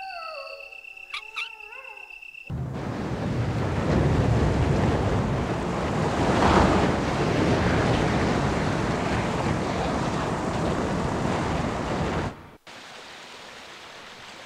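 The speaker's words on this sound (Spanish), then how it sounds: "El agua fluye hacia el otro lado." Water flows steadily in the Resident Evil video game, a loud broad rushing wash that starts abruptly after a brief musical chime and cuts off near the end, with no voices.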